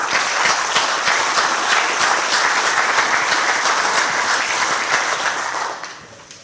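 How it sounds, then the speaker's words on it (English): Audience applause at an annual groundwater district meeting, a steady, dense burst of many hands clapping that holds for several seconds before tapering off at the end. "I think he deserves a round of applause"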